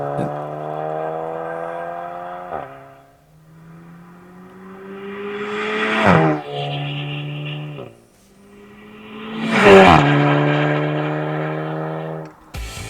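A Volkswagen Golf R exhaust at wide open throttle, heard through two rising pulls with whining, climbing engine tones that drop back between them. The pulls are moderately loud and there is no talk.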